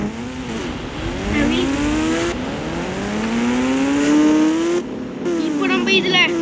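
Kawasaki ZX10R motorcycle revving while out on a ride, its engine note climbing and falling in repeated close, loud sweeps, with brief gaps between throttle pulls and no talking.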